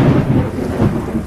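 A cartoon thunderstorm on a rainy night: loud, rolling thunder rumbles over a steady wash of rain, with no voices.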